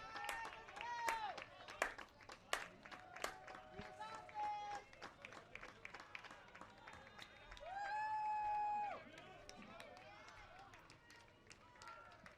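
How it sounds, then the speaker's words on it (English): At a college baseball game between Montevallo and Auburn Montgomery, home fans clap their hands in a steady rhythm, moderately distant, while an announcer talks over it and whistles or shouts rise from the stands. "Warhawk faithful clapping their hands."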